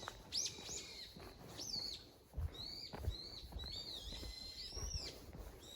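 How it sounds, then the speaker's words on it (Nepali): Several birds call and chirp in a jungle setting, with repeated high tweets and whistled notes scattered through the clip over a steady background of forest ambience. "चराको आवाज मात्रै सुनेर बस्नु"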